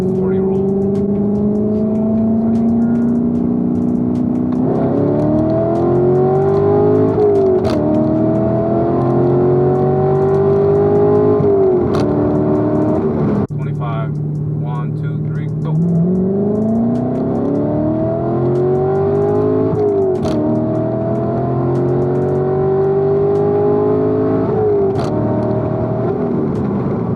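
Corvette C7 fitted with a ported throttle body pulling hard in second gear from a 40 mph roll, the engine note climbing steadily through the revs with gear-shift breaks, loud and close throughout.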